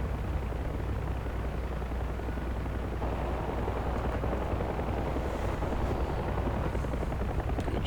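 A Huey helicopter in DCS World roars steadily and close, its dense rotor and engine drone filling the scene while the door gunner's fire is buried in the continuous noise.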